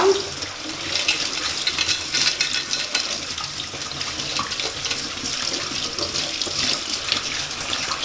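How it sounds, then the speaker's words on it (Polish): Tap water runs steadily under a faucet, rinsing cooked chickpeas in a colander for hummus. The hiss is continuous and fairly loud, with faint spattering and no talk. "I przelewam na ten piękny durszlak, cedzak, sito. I pod bieżącą wodą to płuczę."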